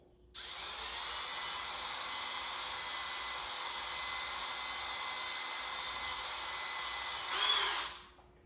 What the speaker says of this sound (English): I take a pipe cleaner on my drill